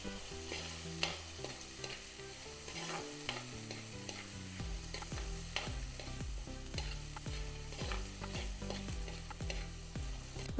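Tomatoes sautéing in a pan for Kerala-style shrimp curry with kudampuli, a faint sizzle under soft melodic background music, with scattered stirring clicks and no speech.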